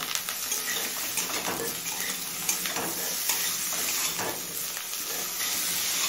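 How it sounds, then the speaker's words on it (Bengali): Eggplant frying with potato and carrot in a pan, a dense continuous sizzle with faint stirring and pan scrapes throughout, no talking. "বেগুনটা দিয়ে মিনিট খানেক ভেজে নিলাম।"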